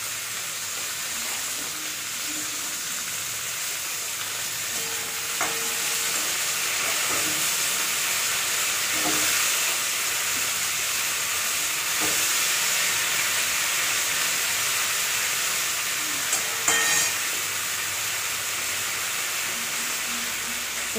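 Pinch of asafoetida sizzling in hot oil while cooking a South Indian sesame and eggplant dish, a steady soft frying hiss throughout with a few faint clinks.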